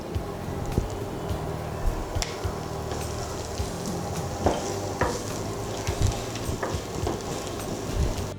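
Chopped onions frying in hot oil for a spicy squid and egg dish, a steady loud sizzle with repeated scraping and stirring knocks from a spoon in the pan, close up, with no talking.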